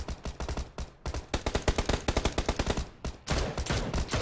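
Rapid automatic gunfire in a video game, bursts of close, loud shots firing in quick rhythmic volleys that run almost continuously with only brief pauses.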